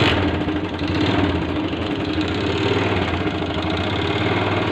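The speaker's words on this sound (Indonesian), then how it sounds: "dengarkan suara mesinnya." A 2008 Yamaha MX four-speed motorcycle engine idles roughly, a steady dense mechanical chatter with a knocking undertone, close and loud throughout with no talking.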